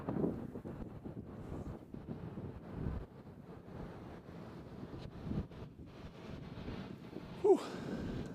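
Wind gusts buffet the microphone at an airport, a continuous low rumbling roar that swells and dips throughout, with a brief sharper bump near the end.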